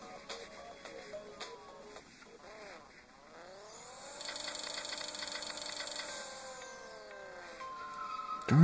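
A Corvette Stingray engine revs in the Racing Rivals video game, with short tonal blips followed by a sustained climbing rev that holds and fades, fairly faint and synthetic-sounding, without speech.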